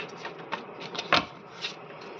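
Tarot cards are shuffled in a quiet room, a soft run of papery riffles and taps with one sharper flick in the middle, faint and close.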